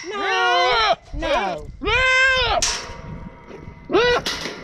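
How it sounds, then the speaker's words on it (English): A goat bleats insistently at close range, with four loud, wavering calls separated by short pauses and a little rustling in between. "He must be a bully goat."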